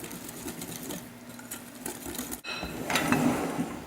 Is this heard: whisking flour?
yes